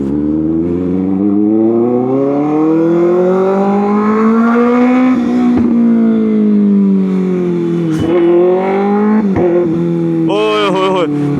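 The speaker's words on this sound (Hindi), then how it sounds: "अब शिफ्ट सुन रहे हो? क्या क्रेजी ऑफ शिफ्ट्स है" A 2025 Kawasaki ZX6R with a modified, flame-shooting exhaust revs loud and close, the engine note climbing steadily before sharp upshifts cut in with popping bursts, while someone talks excitedly over it.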